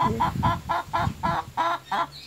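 Marans hens cluck in a quick, rhythmic series of short calls, close and clear, with no talking.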